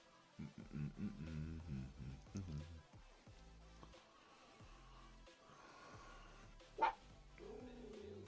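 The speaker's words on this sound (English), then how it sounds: "Oh, we don't need to bark." A dog barks a few times in short, quiet bursts, indoors and not very loud, with soft human voices and breathy sounds around it.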